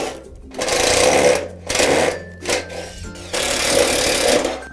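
A power drill drives screws into the header beam of an Absco utility shed front frame, in bursts of whirring motor noise with short pauses between them, loud and close.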